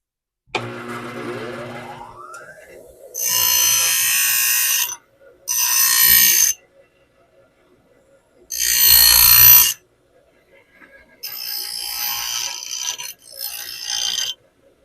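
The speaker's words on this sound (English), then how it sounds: "we're going to touch up the edges on the grinder here" Bench grinder touching up tool edges on a sharpening tool rest, with several loud bursts of abrasive grinding separated by short pauses over a quieter motor hum.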